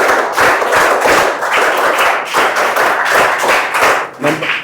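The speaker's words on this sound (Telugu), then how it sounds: "గట్టిగా చప్పట్లు కొట్టి అభినందించండి" Children in a classroom clap loudly to congratulate the first-ranked student in a quiz, a burst of close, uneven clapping in quick waves with a few louder thuds.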